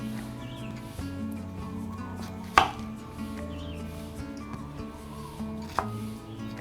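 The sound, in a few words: chopping ripe pineapple into cubes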